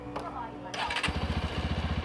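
A Bajaj Pulsar NS125 motorcycle engine cranks and fires, then settles into a steady, close, pulsing idle after a brief starter whir.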